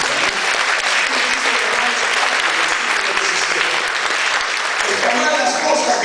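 Loud, continuous applause from a church congregation at a family retreat at Holy Redeemer, thick clapping filling the space evenly from start to finish, with some voices mixed in.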